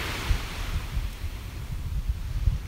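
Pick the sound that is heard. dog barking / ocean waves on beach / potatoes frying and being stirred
ocean waves on beach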